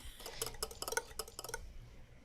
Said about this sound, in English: Just whisk these together.